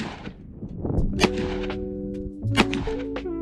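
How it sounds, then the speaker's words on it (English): A Ruger GP100 .357 Magnum revolver fires MagTech rounds in double action: two loud, sharp shots about a second and a half apart, each followed by a ringing, humming tail. "Again, we're gonna be mostly shooting double action today."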